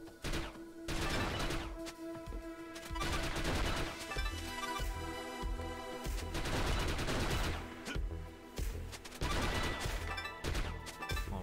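Rapid bursts of rifle gunfire in The Mummy Demastered video game crack out in quick clusters over a steady game music bed, loud and close throughout.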